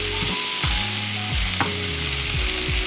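Vegetables browning with mock meat in a slightly too-small pan, a constant bright close sizzle with several dull low knocks and a sharp click partway through, no speech.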